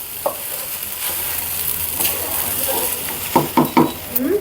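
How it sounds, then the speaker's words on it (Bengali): Food frying in ghee in a pan while being stirred, a steady sizzle with scraping stir strokes and a few louder clanks near the end, no talking. "এখন দেখেন আমি একটু ভেজে নেব ঘি দিয়ে"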